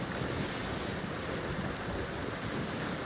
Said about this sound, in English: We're doing donuts in the ocean.